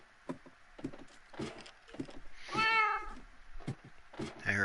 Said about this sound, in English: I hear a kitty, kitty.